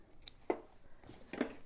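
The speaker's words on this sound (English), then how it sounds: "I might take my scissors, make sure you're not cutting your fleece, and just kind of cut into the stabilizer" Scissors snip into embroidery stabilizer beside fleece fabric, giving two soft, close crisp cuts about a second apart in a quiet room.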